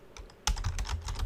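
Quick clicking keystrokes on a computer keyboard, quiet at first and then louder and denser, a close, steady patter of typing with no voices.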